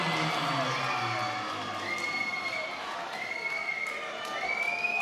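Boxing crowd at a live fight night in Newcastle cheering and whooping after a bout, a loud, sustained roar of many voices with shouts and whistles rising over it throughout.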